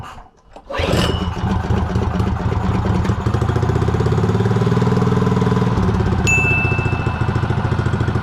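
A Predator 212 Hemi small engine fitted with a Mikuni VM22 carburetor catches after a brief cranking burst, then settles into a loud, steady, throbbing idle that runs close and unbroken to the end.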